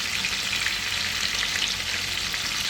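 Iberian pork tenderloin searing in a hot pan, a loud continuous sizzle and crackle of frying close up, with no voices.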